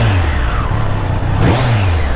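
A Triumph Street Triple 765 RS motorcycle engine revs loudly and close, its pitch rising and falling through a couple of throttle blips after restarting.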